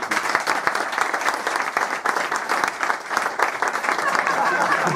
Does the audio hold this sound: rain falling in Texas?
no